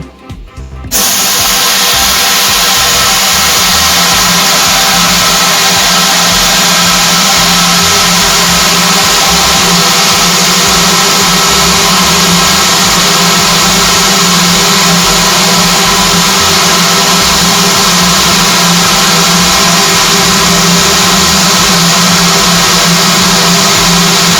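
A noisy gas pump runs steadily and loudly, pumping gas into a wine-filled amphora, a constant mechanical drone starting abruptly after a brief moment and holding without break to the end.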